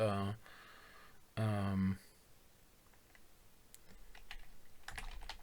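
Computer keys are tapped in quick, light clicks near the end, following two short spoken phrases at the start; the typing is faint and close.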